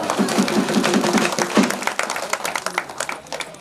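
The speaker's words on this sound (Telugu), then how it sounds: "చప్పట్లు కొట్టాలి అందరూ కూడా" Devotees clap together at a temple puja for the Kanthamaheswara festival in Ramachandrapuram, a crowd of many hands giving a dense, rhythmic burst of applause that gradually thins and becomes more scattered.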